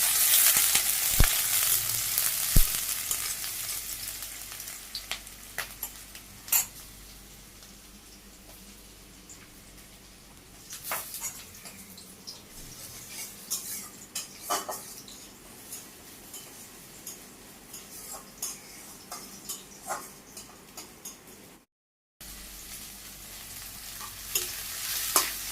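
Onions and green chilies fry in a pan with a steady crackling sizzle, while a spoon scrapes and stirs in irregular clicks and taps throughout, close and clear with no talking.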